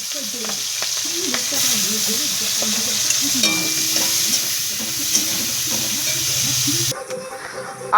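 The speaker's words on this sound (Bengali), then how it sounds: "কেটে রাখা লঙ্কা আর পেঁয়াজ দিয়ে দেবো" Chopped chillies and onion fry in hot oil in a wok, a steady close sizzle with repeated scraping stir strokes throughout, easing to a quieter hiss near the end.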